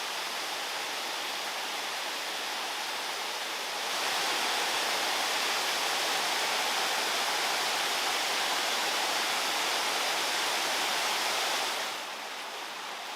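Steady, loud rushing of a waterfall along the trail to Lake Bertha in Waterton Lakes National Park on a rainy day, a continuous broadband roar that swells slightly in the middle and carries no voices.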